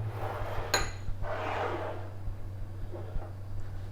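A spoon clinks once and then scrapes gently through bell peppers, celery and white onion in a pan. The stirring is soft and close, with a steady low hum underneath.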